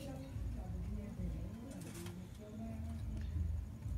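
A Teddy pigeon kept at a home coos in low, rolling notes, close by, with a voice also present.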